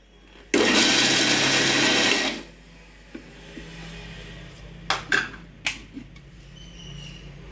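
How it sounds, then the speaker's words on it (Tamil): Mixer grinder pulsing snack ingredients: one loud burst of whirring motor for about two seconds, then it stops, followed by a few short knocks and clatters of the jar. "இந்த மாதிரி விட்டு விட்டு அரைக்கணுங்க"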